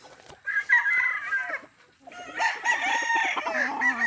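A young gamecock stag crows at a small backyard poultry farm, two loud, close crows separated by a brief pause, the second longer and raspier, with no talking.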